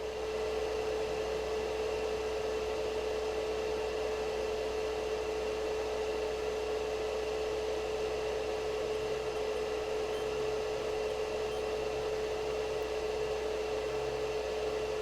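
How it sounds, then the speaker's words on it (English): Cooling fan of a Geeboon HC24 soldering station for JBC handpieces, a loud, steady whirring hum with a constant tonal whine, unchanging throughout and alone without speech. "But that fan is really noisy."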